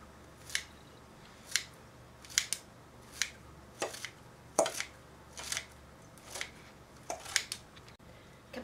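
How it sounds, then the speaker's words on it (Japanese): Kitchen scissors snip through sliced cabbage into small pieces for an omelette, giving about a dozen crisp, close cuts at an uneven pace with brief pauses between them, heard alone without any talk. "キャベツのスライスが終わったら少しキッチンバサミで細かくしていきます。"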